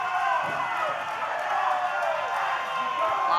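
A crowd at a live OVW professional wrestling TV taping, a dense, continuous roar of cheering and noise from an arena audience, steady and fairly loud for several seconds.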